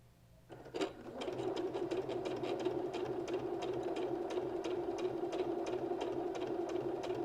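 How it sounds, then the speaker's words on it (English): A sewing machine stitches around the edge of a round embroidered cork coaster, running a steady, rapid, even patter that keeps going without pause, close up and alone with no talk. "I'm just going to sew all around this circle, just like this, keeping it right up against that blade"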